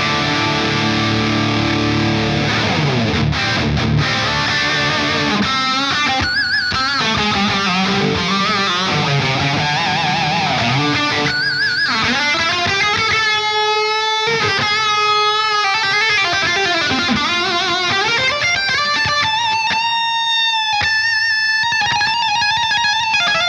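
A heavily distorted, boosted electric guitar through a Universal Audio OX plays a long sustained lead line with sweeping, swirling flanger tones and a wash of plate reverb, loud and alone.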